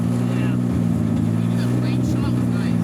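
A 1978 Datsun 280Z sports car with 600 foot-pounds of torque and a six-speed gearbox, loud and steady. Its engine holds a deep, throbbing drone with no talk over it.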